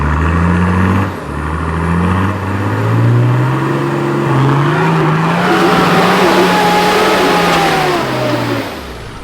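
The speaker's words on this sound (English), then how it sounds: "try and get it up on boost before you let the clutch out" A 4WD engine revs hard and climbs on boost up a steep track in the Watagan Mountains, a loud close drone that rises steadily in pitch over several seconds with rough rumbling beneath.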